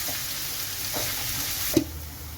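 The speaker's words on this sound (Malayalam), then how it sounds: "ഇനി നമ്മുടെ സവോളയൊന്ന് വഴന്ന് വരുന്നിടം വരെ നമുക്ക് വെയിറ്റ് ചെയ്യാം." Onions sautéing in a pan for a squid roast, a soft continuous sizzle close by with a few faint spatula taps and one sharper clink near the end, no talking.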